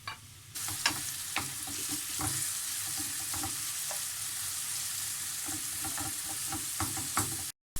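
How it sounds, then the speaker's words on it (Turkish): Onions sautéing in oil in a frying pan give a steady close sizzle, with scattered clicks and scrapes of stirring throughout and no voices. "Aynı tavanın içerisinde şimdi diğer malzemelerimi soteliyorum."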